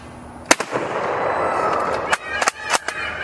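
Loud, sharp Kar98K rifle shots crack out during a timed shooting match run, several irregularly spaced reports over constant background noise, with no talking.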